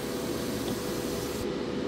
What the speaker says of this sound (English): Here, you're gonna spray directly over top of the model.